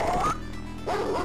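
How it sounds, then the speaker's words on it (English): A junkyard dog barks in the Earthworm Jim game, two quick yappy barks close up against looping game music, with a short quieter gap between them. "Junkyard dog. Can I shoot him from here?"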